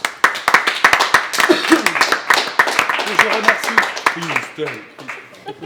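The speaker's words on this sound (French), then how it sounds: "On peut applaudir Christelle Favetta" A dinner-show audience in Chambéry claps for a guest with rapid, sharp, uneven hand claps lasting several seconds, while a voice talks over the clapping.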